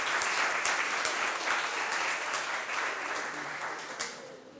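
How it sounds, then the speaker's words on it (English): Audience at a police community meeting applauding standing officers, a steady dense wash of many hands clapping throughout, moderately close, slowly thinning toward the end with no talk. "Let's give them a great big round of applause."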